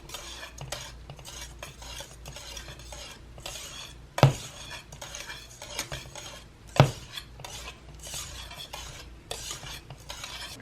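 A wire whisk works through thick white or yellow cornmeal mush in a cooking pot, giving a steady close scraping and stirring with two sharper metallic clinks against the pot's side.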